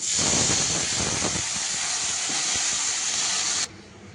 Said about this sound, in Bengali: এবার দিয়ে দেবো পরিমাণ ঝোলের জন্য জল